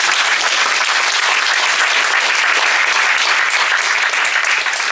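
A large church congregation breaks into loud, sustained applause, dense overlapping hand claps filling the room evenly throughout with a faint crowd murmur underneath.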